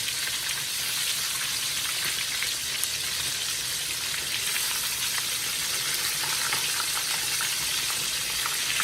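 Breaded pork chops fry in a pan with a dense, even sizzle that holds steady throughout, close and moderately loud, with no talking.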